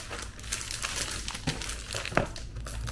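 A sheet of glitter cardstock paper is pulled out of a stack, producing close, continuous crinkling and rustling with a couple of sharper crackles, no talking.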